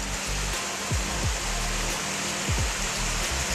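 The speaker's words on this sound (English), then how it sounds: "Look at this adorable waterfall." Small waterfall on a stream in Peekskill, New York, a steady full rush of falling water, loud and close, with a few faint low thumps beneath.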